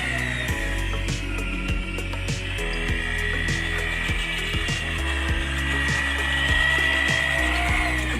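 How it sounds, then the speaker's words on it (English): A drill-driven mixing paddle churns glitter into grout, a steady continuous grinding whir with repeated rhythmic scraping knocks as the paddle rubs the bucket, close and fairly loud with no talking. "this is going to require some mixing to get this thoroughly dispersed in the grout"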